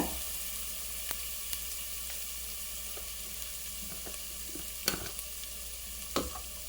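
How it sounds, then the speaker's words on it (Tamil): Masala with coriander powder sautéing on low heat in a pan, producing a quiet, steady sizzle punctuated by occasional soft stirring clicks and taps, with no voices. "கறிக்கிறாமல் சிம்மில் வச்சு வதக்குங்க."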